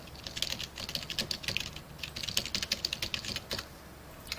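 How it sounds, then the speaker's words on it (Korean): Typing on a computer keyboard while entering a chart formula in a spreadsheet, a rapid irregular clatter of close keystrokes in bursts, with no voices. "수식 입력줄에다가 타이핑 해주시면 되겠죠"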